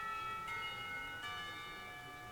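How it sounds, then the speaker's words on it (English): A school lunch bell rings in the visual novel game Katawa Shoujo, two clear resonant chimes struck about a second apart, each leaving a sustained metallic ring that hangs and slowly fades. "I rub my eyes as the lunch bell rings out"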